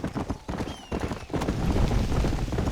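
Horse galloping in the Red Dead Redemption video game, rapid rhythmic hoofbeats on dirt that start in bursts and settle into a steady, close, driving gallop.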